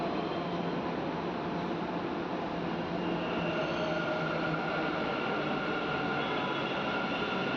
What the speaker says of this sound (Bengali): সেই কারণে মেট্রো ঢুকে গেল আমাদের